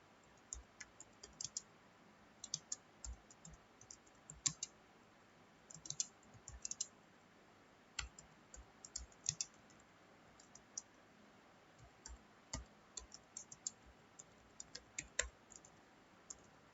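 Quiet, irregular clicking of keys as an HTML program is typed into Notepad on a computer keyboard, short bursts of keystrokes with pauses, no speech.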